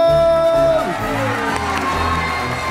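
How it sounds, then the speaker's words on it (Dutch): An audience at a Sinterklaas stage show cheers and shouts for the dancers, with excited children's voices and whoops rising over loud music, a lively crowd roar that swells after the first second. "Applaus voor onze danspieten!"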